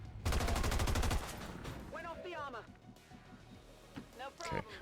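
Mag weapons firing in XCOM 2, a fast loud burst of rapid shots at the start, followed by quieter game effects and whooshing sounds, with a voice talking over them.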